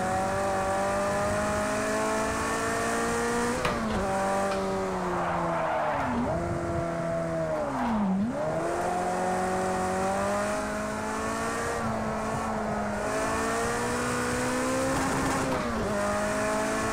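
A Ferrari 288 GTO racing around the Mugello circuit in a VR sim-racing game, its engine note rising and falling through gear changes with tires squealing in the corners, loud and continuous throughout.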